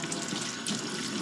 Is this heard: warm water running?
yes